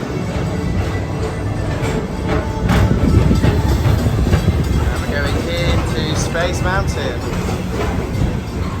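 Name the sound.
people mover train passing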